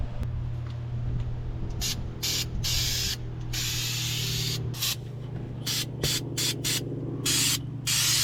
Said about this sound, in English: I'm going to go ahead and grease these chains